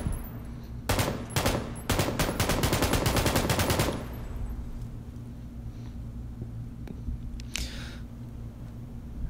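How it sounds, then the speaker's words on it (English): Automatic gunfire in the battle royale shooter PUBG rattles out in rapid, loud bursts over the first few seconds, then stops, leaving a low background hum and a single faint distant shot later on. "you can hear the gunfire"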